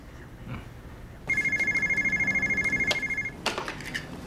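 A telephone rings with a rapid, trilling electronic bell in a single sustained burst lasting about two seconds, fairly close, then stops.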